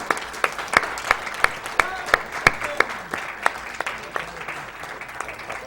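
A small audience at a speedrun marathon event claps in scattered, fairly slow applause, individual claps standing out sharply against a low room murmur.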